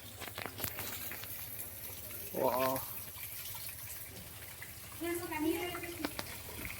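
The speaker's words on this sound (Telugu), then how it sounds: "వాటర్ ఫాల్స్ లా ఉంది" Water gushes steadily like a small waterfall at the entrance of the Sri Karnika Parameshwari temple in Honnavar, a continuous outdoor rush with a couple of short voices passing over it.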